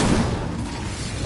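A fire spell cast in the Hogwarts Legacy video game bursts out as a loud, dense whoosh with a low boom at the start that stays broad and steady for the whole short moment, with no talking.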